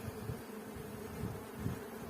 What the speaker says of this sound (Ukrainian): бджолки наші почали бути агресивними